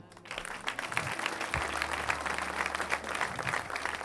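A church congregation claps and cheers together in sustained applause, a dense, moderately distant wash of hand claps with a low hum beneath.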